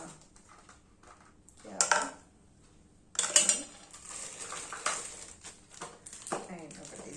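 Steel bowls from a Pigeon rice cooker clink and clatter as they are handled, with a few sharp metallic knocks spread between stretches of talking.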